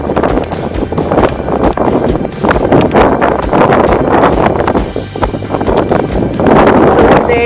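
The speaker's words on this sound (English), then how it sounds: "So today it's windy" Strong wind buffets the microphone outdoors over thick ice in Canada, a loud rumbling roar that gusts and swells continuously.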